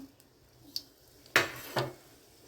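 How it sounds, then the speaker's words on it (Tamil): Mustard seeds in hot sesame oil for a dried-fish kuzhambu pop in a few sharp, sparse bursts, three or four distinct crackles over a quiet background. "கடுகு இந்தளவுக்கு பொரிஞ்சு வர்ற நேரம்"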